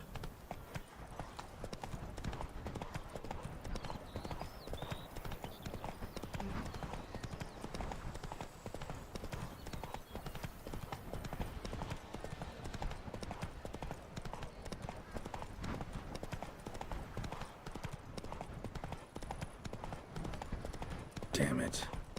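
Video-game horse Roach trotting steadily, with a continuous, even clip-clop of hooves running the whole way through and voices present alongside.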